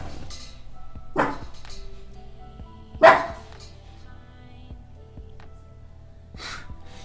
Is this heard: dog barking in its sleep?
yes